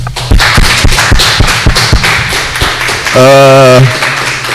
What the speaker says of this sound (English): Last round of applause for Walt